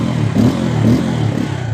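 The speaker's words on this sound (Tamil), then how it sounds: "இது எக்ஸாஸ்ட் டோனு." Exhaust note of a Bajaj Pulsar N250 motorcycle, heard close as a steady low rumbling idle with two small surges of throttle, with no talking.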